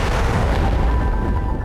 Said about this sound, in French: L'explosion initiale est rapide.